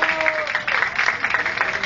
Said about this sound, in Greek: με ένα χειροκρότημα τουλάχιστον για τον Άλεξ